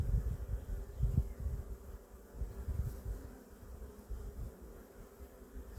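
Honeybees buzzing close by during a spring beehive inspection with a smoker, a steady low insect hum with bursts of louder buzzing as bees fly near.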